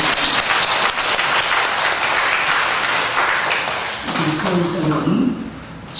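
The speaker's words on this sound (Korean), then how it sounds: "이 생일을 맞이하신 분 다시 한번 큰 박수로 축하드립니다" A church congregation at a Sunday service gives a big round of applause for members celebrating birthdays. Loud, dense clapping carries for several seconds, then fades as a voice begins speaking near the end.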